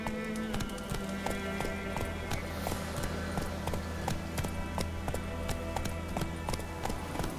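Horse galloping in the video game The Witcher 3 on PlayStation 4, steady rapid hoofbeats repeating throughout over a constant game soundtrack drone.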